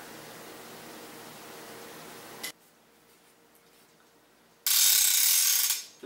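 A centerpin fishing reel's ratchet whirs as backing line is wound on, a loud, bright burst of rapid clicking lasting about a second after a quiet stretch and some earlier low background noise.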